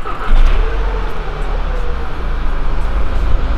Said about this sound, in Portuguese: Vamos ligar o carro.